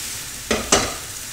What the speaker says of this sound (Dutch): Ik ga beginnen door in de olie de knoflook te doen.